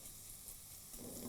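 Chopped onions cook gently in a kadhai on low heat for paneer curry, making a quiet, continuous sizzle with soft stirring texture throughout.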